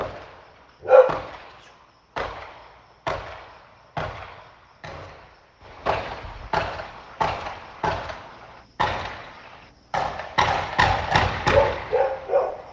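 A series of sharp, sudden bangs at night from pistol and 12-gauge shotgun fire and a grenade-like explosion, irregular at first and then coming faster, each cracking out and fading, with no voices in between.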